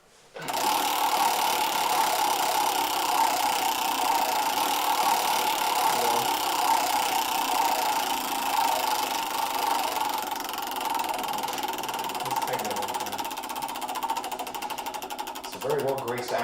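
A Halloween prize wheel spins on a well-greased axle, giving off a steady, rapid ratcheting whir that runs loud and unbroken for about fifteen seconds before easing near the end.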